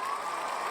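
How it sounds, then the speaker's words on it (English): A brief burst of crowd applause and cheering, steady and fairly loud, lasting under a second. "There's the applause."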